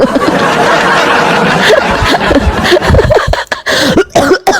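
Several rough, throaty coughs break out amid a noisy, crowded background, with some laughter mixed in.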